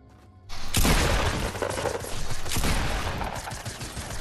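A suppressed submachine gun in a video game fires in a sustained, rapid burst of muffled cracks that starts abruptly and keeps going, fairly loud, with no talk over it.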